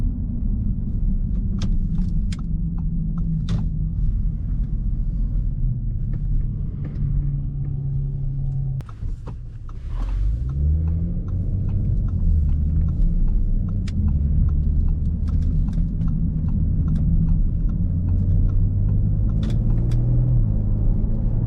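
Steady low engine rumble of a 2019 Audi S5 Sportback cruising through a neighborhood at moderate speed, with a brief dip and shift partway through before the drone resumes.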